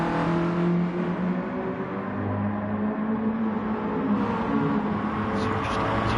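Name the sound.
Mazda touring car racing lap in racing video game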